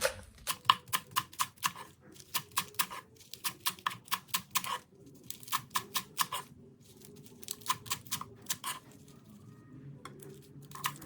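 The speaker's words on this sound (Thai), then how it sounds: "เราก็จะมาซอยผักชีฝรั่งค่ะ" Rapid, rhythmic knife chops slicing parsley on a cutting board, running in quick bursts with brief pauses, crisp and close, no talking.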